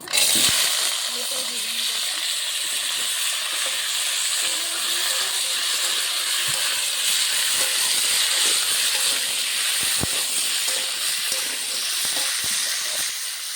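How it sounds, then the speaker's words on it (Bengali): Potatoes and kohlrabi hitting hot white cooking oil for a Bengali fish curry give a steady, loud broadband hiss and sizzle that runs without a break for the whole stretch. "সাদা তেলটা গরম হয়ে গেছে, এখন আলু আর ওলকপিটা কেটে ধুয়ে রাখা দিয়ে দেবো।"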